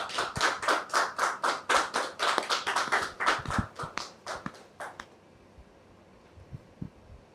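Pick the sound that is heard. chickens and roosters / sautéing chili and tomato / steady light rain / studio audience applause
studio audience applause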